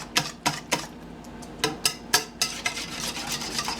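Cornbread batter being mixed by hand in a bowl, a spoon scraping and knocking in sharp, uneven strokes, with a faster run of softer scrapes toward the end, close and fairly quiet.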